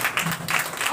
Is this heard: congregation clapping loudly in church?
yes